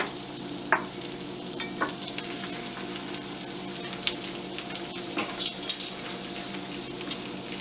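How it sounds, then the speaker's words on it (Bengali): Lamb steaks fry in a pan while rosemary garlic butter is spooned over them, giving a steady soft sizzle with occasional clinks and stirring scrapes, no voices. "এক একটা স্টেক আমি রোজমেরি আর গার্লিক বাটার মিক্সচারে দেব, তার উপরে আমি জাস্ট স্পুন ইন করব"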